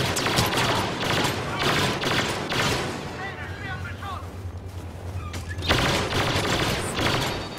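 Blaster gunfire in the Star Wars Battlefront multiplayer battle on Hoth: dense rapid volleys of shots in bursts, loud and close, easing off midway to quieter distant fire with chirping effects, then returning strongly, with a voice talking underneath.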